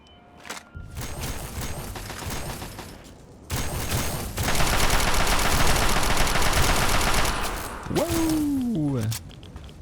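Gunfire in Fallout 3 comes in bursts of rapid automatic shots, loud and continuous for several seconds, followed by a short falling tone at the end.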